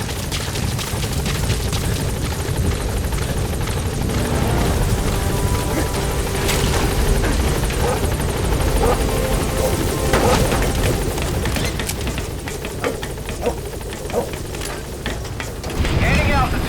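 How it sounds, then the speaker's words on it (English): A support helicopter arrives in Metal Gear Solid V: The Phantom Pain, its heavy rotor rumble loud and steady throughout, with radio-style voices breaking in over the noise. "Support helicopter has arrived."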